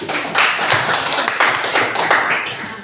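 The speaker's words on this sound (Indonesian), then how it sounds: "Nah, tepuk tangan dulu buat." Schoolchildren in a classroom clap their hands together in a quick burst of overlapping claps lasting a few seconds, close and fairly loud.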